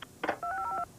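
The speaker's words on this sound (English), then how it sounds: "Show us how easy it is to dial 1-800-COLLECT." Touch-tone telephone keypad dialing 1-800-COLLECT: a few short button beeps followed by a rapid run of clear DTMF tones, close and alone with no talk.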